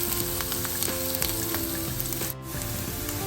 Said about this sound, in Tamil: வெங்காயம் அது கொஞ்சம் பொன்னிறமா பொரிஞ்சு கொண்டு வரட்டும்